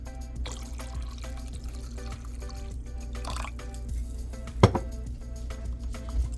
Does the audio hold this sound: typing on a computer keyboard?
no